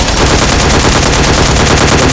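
Rapid automatic gunfire in the battle royale video game Scarfall 2.0, a dense, loud, continuous burst of shots with no pauses or talking.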